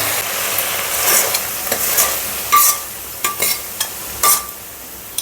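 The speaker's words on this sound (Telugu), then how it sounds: "ఇప్పుడు పోపు కలిపేసుకుందాం పులిహోరలోకి." Hot tempering is mixed into pulihora rice, with a soft continuous sizzle and irregular scraping and clinking strokes of a spoon against the vessel, close and clear.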